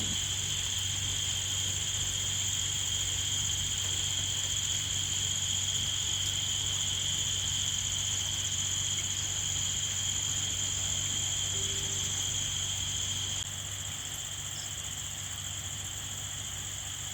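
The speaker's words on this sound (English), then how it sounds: "Listen to the inevitable sound of the cicadas common to the jungles." Continuous high-pitched droning of cicadas in jungle around an eco resort in Purulia, with two steady shrill bands holding evenly throughout and no voices.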